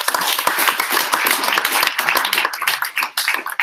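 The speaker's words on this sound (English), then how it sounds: "Give them a big round of applause, please." Audience at a startup pitch competition grand final in Brisbane applauding the judges, a lively burst of many close hand claps that thins out toward the end.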